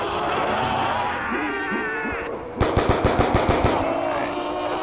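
Machine-gun fire in Black Ops 2 Zombies survival mode on the farm map, a quick rhythmic burst of about ten close shots after a stretch of game noise.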